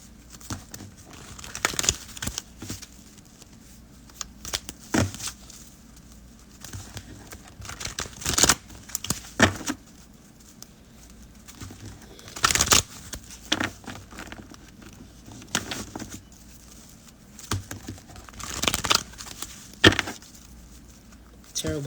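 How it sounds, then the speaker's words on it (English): Tarot cards being shuffled by hand close up, irregular bursts of papery riffling, slapping and crinkling spread across a long stretch, with quiet gaps between. "now I'm going to pull a few tarot cards."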